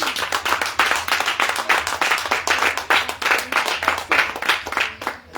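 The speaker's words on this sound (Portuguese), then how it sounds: "Let's put our hands together for Jesus." A church congregation claps for Jesus during a bilingual English and Portuguese service, a steady run of loud, close hand claps that fills the whole stretch without talk.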